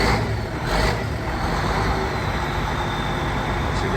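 An old vehicle engine revs through its gearbox with a loud, dense, rumbling roar that swells slightly early and then holds steady, with a faint whine above it.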